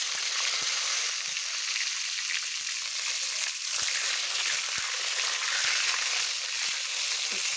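Salted pointed gourd (potol) fries in hot oil for potol dolma, giving a steady, close, even sizzle that hisses throughout with small crackles and no talking.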